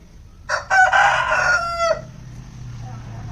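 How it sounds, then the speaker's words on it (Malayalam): A rooster crows once, close and loud, a single drawn-out call of about a second and a half over quiet outdoor background noise at midday. "ഈ കൂവല കേട്ടോ ഇത് വേറെ എവിടെ നിന്നോ പോകുന്നതാണ്"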